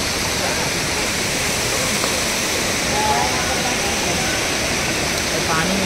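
Dudhsagar waterfall in Goa sends a steady, dense roar of rushing water, loud and unbroken across the whole stretch with no pauses.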